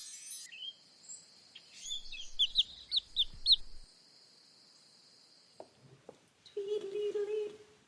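Birds chirp and trill in quick bursts over a steady insect-like drone, followed by a few clucks and a brief tonal call, in a whimsical cartoon spring scene.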